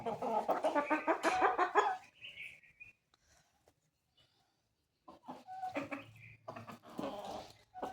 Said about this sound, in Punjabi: ਤੇ ਲਓ ਜੀ ਆਪਾਂ ਇਧਰ ਕੁੱਕੜਾਂ ਨੂੰ ਛੱਡਤਾ